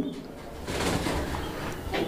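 Belgian black line pigeons cooing softly in a loft, low murmuring coos mixed with rustling and faint voices nearby.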